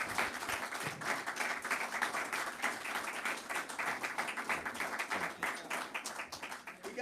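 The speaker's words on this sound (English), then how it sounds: "Let's give him a round of applause." Steady round of applause from an audience at a community event in New Orleans, fairly quiet and continuous with rhythmic clapping running throughout.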